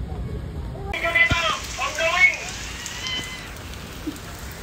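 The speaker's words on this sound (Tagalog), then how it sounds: "Umuulan na guys. Sobrang lakas." Heavy rain pours down in a steady broadband hiss, close and constant throughout, while a person talks over it.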